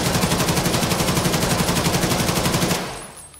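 Rapid automatic fire from an AK-12 rifle loaded with tracer and armor-piercing rounds in the Escape from Tarkov video game: a loud, steady burst of evenly spaced shots lasting close to three seconds, then cutting off into a fading tail.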